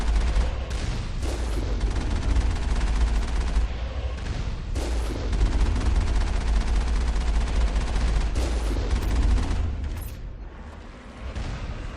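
Sustained heavy gunfire rakes enemy turrets in Mass Effect, dense rapid bursts and booming impacts running almost continuously, easing briefly near the end before resuming.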